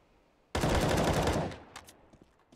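Gunfire in the video game Counter-Strike, a loud close burst of rapid shots lasting about a second, followed by a few fainter scattered shots as it trails off.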